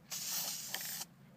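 Spray paint hisses from an aerosol can in a single steady burst about one second long, applied as a light coat onto a menu chalkboard, close and fairly quiet.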